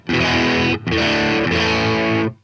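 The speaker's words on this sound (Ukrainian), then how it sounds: "І з педалі овердрайву." An electric guitar is driven through an overdrive pedal, loud gritty chords struck twice or thrice in quick succession, each sustained briefly before a final fade.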